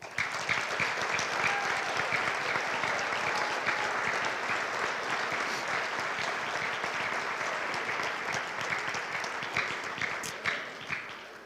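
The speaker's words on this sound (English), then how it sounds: "2027 a round of applause." An audience at a sixth grade recognition ceremony applauds the class of 2027 with dense, even clapping that carries on for several seconds before tapering off.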